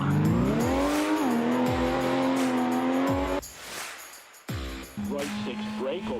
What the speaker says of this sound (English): When you reach the blue cones, initiate the power slide. Use the throttle and steering to continue the slide through the corner.